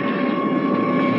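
Steady, loud airplane cabin drone used as a sound effect in a classic radio play, a constant engine hum with a tonal whine held evenly throughout, no voices.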